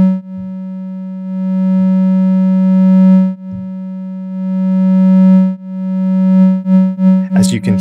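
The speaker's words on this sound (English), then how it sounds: "I'll patch up a simple voice using Contour 1 as an envelope, triggered by the press point." A simple modular synth voice shaped by a Joranalogue Contour 1 envelope hums as a pure, steady sine-like tone whose loudness swells, holds and falls in slow arcs, ending in a burst of rapid, chirping retriggered notes.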